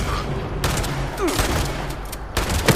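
Rapid gunfire in the video game Fallout 76 rings out in loud, close volleys of overlapping shots, with a burst near the start and another toward the end.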